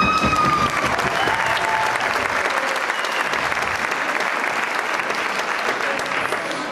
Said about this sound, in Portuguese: Eu quero aplausos, vocês que vão escolher o vencedor